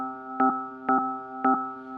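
Synth pad in FL Studio with ring modulation set to 52%, a sustained tone broken by three evenly spaced metallic, clanging pulses that give it a rhythmic wobble, heard alone.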